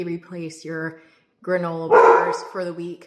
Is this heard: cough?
no